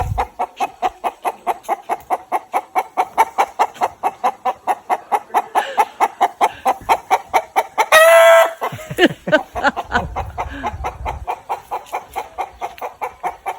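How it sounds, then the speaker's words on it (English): A rooster crows nearby at 7 o'clock at night in the Northern Territory bush at Lorella Springs, over a steady, rapid pulsing chatter that runs through the whole stretch, with some clucking afterward. "Give us a cock-a-doodle-doo."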